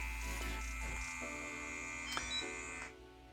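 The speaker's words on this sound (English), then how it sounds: "when you hit the button right here in the center, this turns on the power. You have to hold it and then it will turn on and you can hear it working." AchedAway robotic cupping therapy device powered on and running, giving a steady close electric buzz with a constant hum that shifts briefly and then drops off near the end, with no talking.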